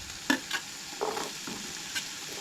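Cabbage manchurian frying and being stirred in a pan, a low steady sizzle with a few short scraping stirs spread across the clip, fairly quiet and with no voices.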